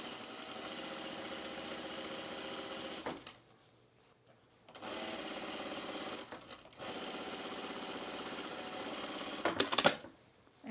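A sewing machine with a shearing foot runs a line of stitches in three close, steady, rapid bursts separated by short pauses, ending with a brief clatter.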